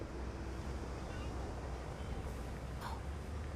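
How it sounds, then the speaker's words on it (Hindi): Cold wind blows in a steady low rumble with airy hiss, buffeting like gusts against a microphone, while faint voices are heard beneath it. "काफी ठंडी हवा चल रही है।"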